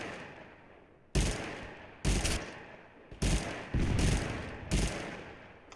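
Loud, close shots from the Double Shot gun in Totally Accurate Battlegrounds ring out about five or six times at uneven intervals, each a sharp crack trailing into a short echoing decay, with no voices.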